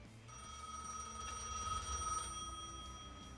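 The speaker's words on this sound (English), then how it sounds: "Pick up the phone. Uncle has a few words for us." A telephone rings in the Gas Station Simulator video game, a bright electronic trill held steadily for a few seconds over a low background hum, fairly quiet and with no talking.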